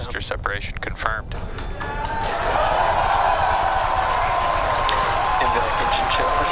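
Crowd of spectators cheering and roaring as the SpaceX Falcon Heavy boosters separate during launch, a broad sustained swell of voices building after a couple of seconds and holding loud, with some speech at the start.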